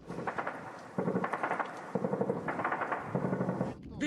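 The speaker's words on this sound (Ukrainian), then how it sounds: "боку ворога лунають кулеметні черги та поодинокі постріли" Machine-gun bursts and single gunshots ring out at front-line positions in the snowy steppe of the Svitlodarsk arc in Donbas, sounding as repeated rapid rattling volleys with a voice talking over them.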